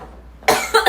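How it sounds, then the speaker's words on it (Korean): A person coughs close to the microphone: two or three quick, loud coughs in succession after a moment of near silence. "저 다시 기침이 시작됐어요."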